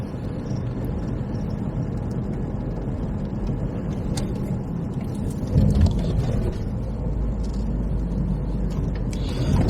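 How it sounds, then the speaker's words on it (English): Inside the cabin of a car driving a bumpy country road between Charing and Headcorn Aerodrome, a steady, loud low rumble of tyres and engine, with a heavier jolt partway through. "bouncy roads. I think they sound worse with this microphone in the cabin of the car."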